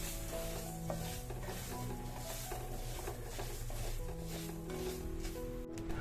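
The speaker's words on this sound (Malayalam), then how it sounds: "ഇതിങ്ങനെ നല്ലോണം ഇളക്കി കൊടുക്കുന്ന സമയത്ത് ഓരോ അരിയും പൊട്ടി വരും" Matta rice roasting in a hot pan while being stirred, a continuous faint dry sizzle with rhythmic scraping and rustling of grains, under a low steady hum.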